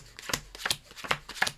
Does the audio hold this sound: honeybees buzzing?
no